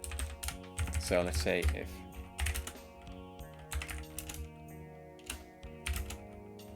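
Fingers type on a relatively new backlit computer keyboard, quick irregular clicking bursts of keys close by, with a person speaking over part of the typing.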